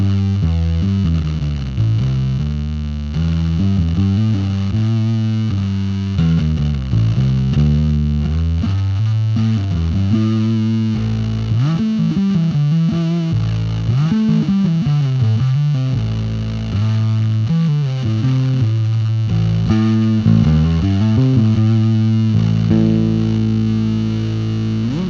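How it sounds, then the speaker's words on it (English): Bass guitar played through a Gamechanger Audio Plasma distortion pedal, a continuous fuzzy, buzzing distorted riff with shifting low notes and sustained tones, loud and steady throughout. "the plasma pedal sounds really, really cool on bass"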